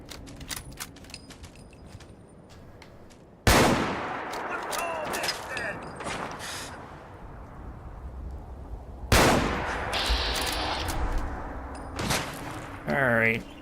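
Shotgun blasts from an enemy in Fallout 4, two loud booming reports several seconds apart, each trailing into a long rumbling decay over ambient game noise, with a few sharper clicks near the end.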